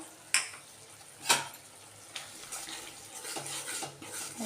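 A spoon scrapes and taps against a pan while stirring cashew and poppy seed paste, with a few distinct knocks early on, then softer continuous scraping and sizzling.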